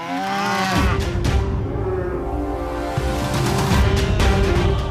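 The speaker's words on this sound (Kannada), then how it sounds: "ಹಸುಗಳು ಈ ರೀತಿ ಯಾಕೆ ಕೂಗ್ತಿರ್ಬೋದು?" Several cattle moo together in a long, overlapping chorus of loud, close calls that swell and fade with no talking, as in a Kannada TV drama scene.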